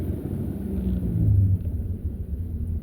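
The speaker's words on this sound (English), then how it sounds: "I wanted him to hear my race car engine." A race car engine rumbles at idle, a deep steady low growl that swells briefly midway before settling back, heard close with no talk.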